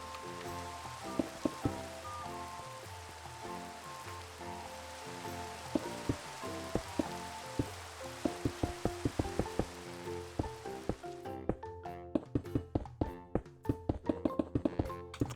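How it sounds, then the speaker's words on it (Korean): Rain falls steadily in a Minecraft world, a continuous wash of patter with scattered drop-like ticks, mixed in with layered game music and sharper percussive game sounds that grow busier toward the end. "비가 와가지고"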